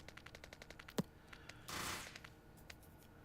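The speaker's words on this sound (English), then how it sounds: "God, the noise of these turrets on fast is deafening." Rapid automatic turret fire in Factorio crackles as a steady stream of sharp shots, with one louder bang and a brief burst of rushing noise midway, loud and dense with no talk.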